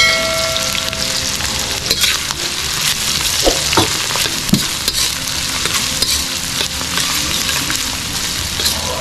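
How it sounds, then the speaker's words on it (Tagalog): Onion and garlic sautéing in a pan while being stirred, giving a continuous close sizzle with scraping stir strokes and light clinks of the utensil. "start na tayo manggisa ng sibuyas. Isunod na rin natin ang bawang"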